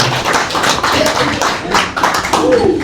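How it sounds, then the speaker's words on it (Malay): Audience clapping at a training course in Kuantan, a mix of sharp taps and claps running continuously for about three seconds, moderately loud and close, with some voices mixed in. "Satu tepukan paling dulu untuk Rianda."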